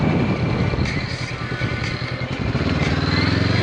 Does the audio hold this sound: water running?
no